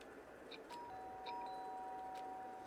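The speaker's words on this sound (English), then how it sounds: "Ding dong!" A faint electronic doorbell chime sounds within a Law & Order Danganronpa-style game scene, with a few soft ding tones and sustained pitched notes over low background hiss.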